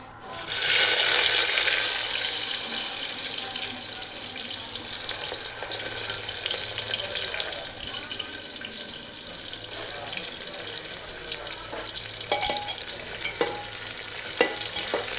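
Chillies and onion frying in a pan for masala rice, a loud burst of hiss at the start settling into a continuous close sizzle, with later scraping and clinking of a stirring spoon; a faint voice may be present.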